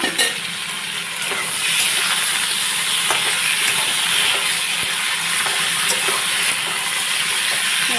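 Hilsa fish fries in oil in a pan, giving a loud, continuous sizzle and crackle with occasional pops. It holds steady for several seconds with no talking.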